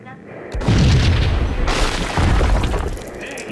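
A bomb explosion in Max Payne, a loud, deep boom that swells in and stays heavy and rumbling for a few seconds, with a second surge partway through.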